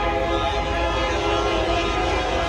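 A train rolls steadily past close by with its horn sounding, a dense continuous rumble and tonal blare filling the whole stretch, with wind noise and no clear talk over it.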